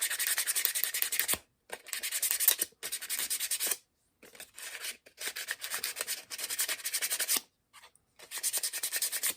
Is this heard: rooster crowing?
no